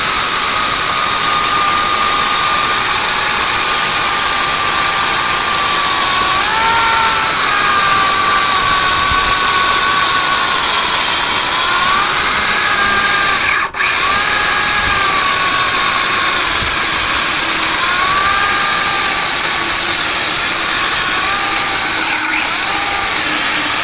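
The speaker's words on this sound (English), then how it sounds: "we'll see if I can actually make the electric saw do this work" A 1 3/4 horsepower Harbor Freight electric chainsaw runs at a loud, steady whine, its pitch dipping and rising as the chain bites into wood, with one brief break in the sound.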